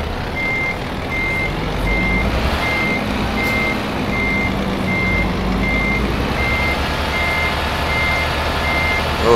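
A truck in Euro Truck Simulator 2 backs into a parking spot, its reversing alarm beeping in an even, repeated rhythm over a low rumbling engine, with no talk.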